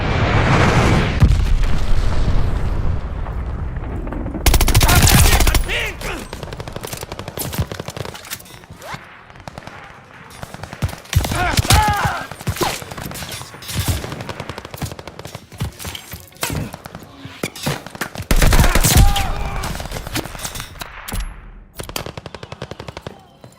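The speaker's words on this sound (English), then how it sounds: "Hostiles are strafing us!" Video game combat in which hostiles strafe with rapid machine-gun bursts and sharp single shots, dense and loud at times, with booming impacts scattered through the whole stretch.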